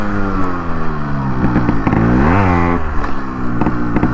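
A Yamaha RX 135 two-stroke motorcycle engine running close by, with a buzzy, rasping note that revs up and falls back once in the middle, then settles into a steady idle with no talking.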